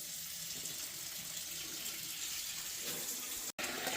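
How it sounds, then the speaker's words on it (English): Hot tap water runs steadily into a pan to rinse out leftover almond brittle candy, a constant close hiss of flowing water broken by one brief cut near the end. "You're going to want to rinse out all the stuff in the pan."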